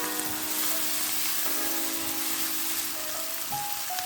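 Onion and tomato sauté in hot oil for a prawn curry, with a dense, continuous sizzle and crackle filling the pan, steady and close, over faint background music.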